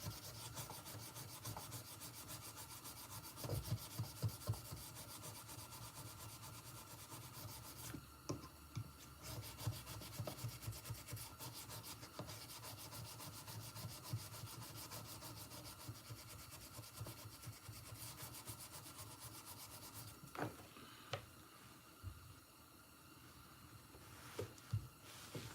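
A knife blade is rubbed steadily on a 1000 grit stone with oil, giving a continuous soft scraping hiss with slightly shifting strokes and a few brief knocks throughout.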